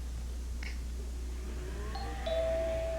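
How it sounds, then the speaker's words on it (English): Ding-dong chime of a household doorbell in a children's television sketch, two bright tonal strikes ringing out clearly over a steady low hum, the second note held and sustained. "Oh, it's the doorbell."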